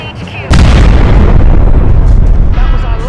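Airstrike explosions in the video game MechWarrior 5 land as a sudden loud boom followed by a sustained rumbling roar with crackling debris.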